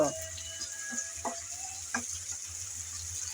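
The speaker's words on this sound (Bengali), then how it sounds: "শুরুতেই আমি তেলের মধ্যে শুটকি বেজে নেব" Dried churi fish frying in hot oil in a pan, a quiet steady sizzle broken by small crackles and pops, with faint clinks from a utensil.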